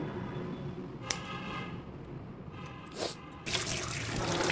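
Running water rinses freshly trimmed prawns clean, a soft trickle and splash near a sink that swells into a fuller flow toward the end.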